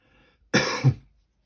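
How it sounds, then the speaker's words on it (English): A single short cough followed by a throat clear, close and fairly loud, with near silence before and after. "I might occasionally just stop and clear my throat slightly"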